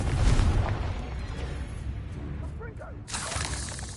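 Fiery blast of the Confringo spell in the wizarding game Hogwarts Legacy, a loud booming burst with crackling, shattering debris that rolls on for several seconds, with a brief dip before the noise swells again.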